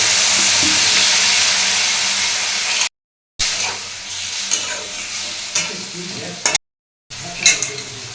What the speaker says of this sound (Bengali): এবারে সিদ্ধ করে রাখা সজনে ফুলটা দিয়ে দিলাম জল দিয়ে দিচ্ছি